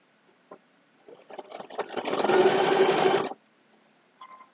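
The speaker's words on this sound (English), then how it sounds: "So now I'm going to do a little stitching on this side." A sewing machine stitches a two-fabric potholder in one steady, close whirring run of about a second, after a few short stop-start bursts and some handling noise.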